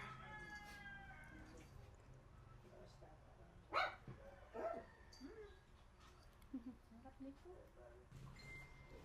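A young puppy gives a couple of short barks amid quiet household background, with a rooster crowing and people talking around it.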